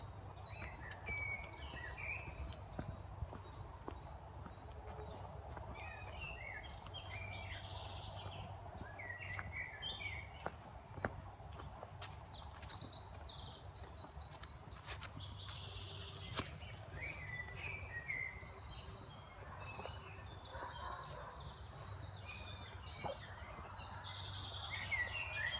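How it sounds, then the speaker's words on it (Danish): Birds singing in a forest: faint, scattered chirps and short twittering phrases at a distance over a low, steady background with occasional soft knocks. "dejligt at høre fuglene, så nu kan I lige høre dem lidt"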